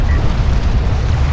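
An enemy salvager vehicle in Homeworld: Deserts of Kharak is destroyed with a loud, sustained, rumbling explosion that fills the whole moment with a deep roar.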